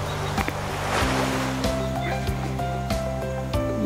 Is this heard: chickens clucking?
no